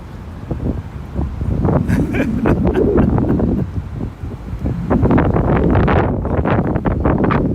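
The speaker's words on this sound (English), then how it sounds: "Wind picking up here as the ships begin to make their way down" Steady wind buffeting an outdoor microphone at a New York harbor tall ship parade, a continuous loud rush with gusty swells and no clear voices over it.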